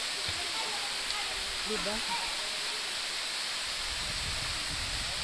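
Steady broadband rush of water at Dampalit Falls, not especially strong, continuous close hiss under brief faint voices.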